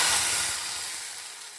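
Hot tempering of onion, mustard seeds and curry leaves hits a spicy mackerel fish curry, a strong steamy sizzle that starts loud and gradually eases into a softer hiss.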